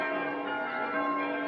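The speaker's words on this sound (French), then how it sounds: "Les cloches sonnent" Church bells in New Caledonia ringing on news of the Normandy landings, a sustained, shimmering wash of overlapping bell tones, steady and fairly loud with no pauses.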